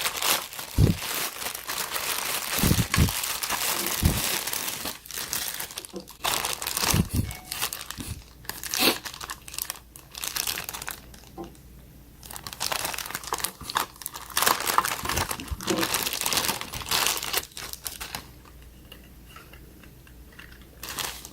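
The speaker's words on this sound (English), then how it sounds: "It's just a regular plain cheap plastic bag." Cheap thin plastic bag packaging around a powerbank is handled and torn open, giving loud, close bursts of crinkling and crackling in uneven spurts with brief quieter pauses between.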